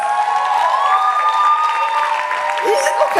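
A room full of people applauding and cheering at a development conference, steady dense clapping with whoops and shouts rising over it.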